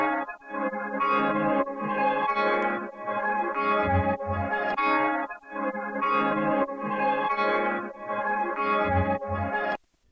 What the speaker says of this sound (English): pressing what I'm calling key 3 2 times to add the keyboard sounds